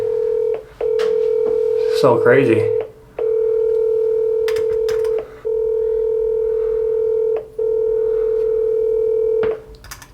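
A steady telephone ringing tone repeats in long, evenly spaced bursts with short gaps between them, and a voice briefly speaks over the first one.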